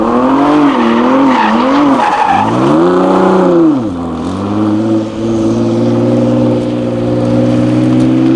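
A sports car driving hard on a track, its engine note rising and falling loudly and close, with long sustained tire squeals as it skids through corners, no talking.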